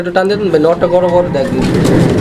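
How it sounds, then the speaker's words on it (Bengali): A male fancy pigeon, one of a pair offered for sale, coos close by in a steady run of soft, throaty calls that rise and fall over a couple of seconds. "নরের ডাকটাও মাসাল অনেক চমৎকার এই যে দেখেন"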